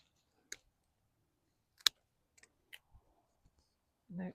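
Eggplants being snipped off garden plants during an autumn harvest, heard as a few sharp, isolated clicks of cutting shears spaced apart in otherwise quiet surroundings, close and crisp, with a brief rustle at the end.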